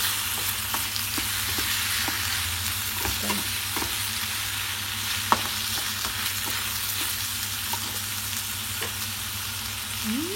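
Chicken and chopped spring onion stirred in a frying pan give a continuous sizzle broken by irregular scrapes and clinks of the utensil against the pan, close up, with a faint low hum beneath.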